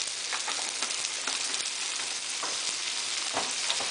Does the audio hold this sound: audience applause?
no